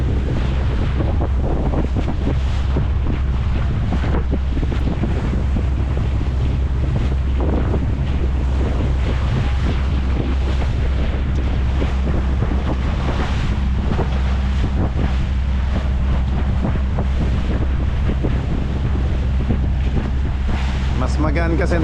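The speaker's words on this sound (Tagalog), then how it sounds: "At medyo mas malakas ang hangin dito." Strong wind roars steadily across the microphone at sea, with waves and a boat engine underneath and a voice speaking faintly through the buffeting.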